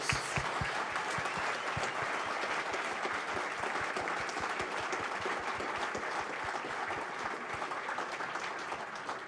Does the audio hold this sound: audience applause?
yes